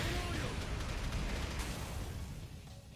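DOT explosion effect in the video game King of Fighters All Star, a dense, loud crackling blast of noise that fills the whole three seconds and slowly fades.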